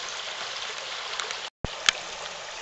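A small mountain trout stream flows with a steady, close hiss of rushing water, briefly cut out for a moment before resuming, with a small splash afterward.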